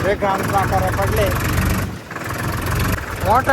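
A large farm tractor used for maize chaff-cutting work runs with a continuous low diesel rumble, a voice speaking over it throughout, with a brief dip in the engine sound around the middle.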